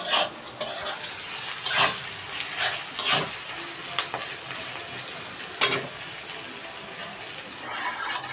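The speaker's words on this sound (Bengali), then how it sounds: "পেঁয়াজগুলো একটু লাল লাল ভাজা হয়ে গেলে মাংসটা দিয়ে কষিয়ে ফেলবো।" Meat sautéed with onions fried until reddish, frying steadily in a pan close by as a spatula scrapes and clanks against the metal in irregular strokes, with no talking.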